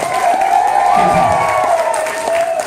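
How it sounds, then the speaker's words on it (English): A live audience at a horror sideshow performance claps and cheers loudly, with whoops and shouted voices ringing over continuous applause close by. "Let's give a big round of applause for Tammy, ladies and gentlemen."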